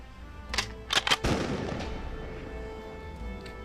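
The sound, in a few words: bombard cannon shot effect in a Warmachine battle report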